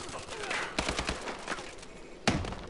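Gunfire in Call of Duty: Advanced Warfare during a Team Deathmatch on the Detroit map, a few sharp shots and short bursts at moderate distance, with one louder crack near the end under a busy game-audio bed.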